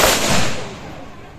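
A rifle volley fired as a guard of honour salute at a state funeral ceremony for a freedom fighter, one loud sharp crack with a long rolling outdoor echo that fades away.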